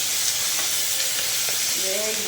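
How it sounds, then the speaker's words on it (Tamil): Drumstick leaves fry in hot oil, giving a continuous dense close sizzle with soft stirring scrapes and a faint tonal squeak toward the end. "முருங்கைக்கீரைக்கு மட்டும் நல்லா வறுக்கணும்"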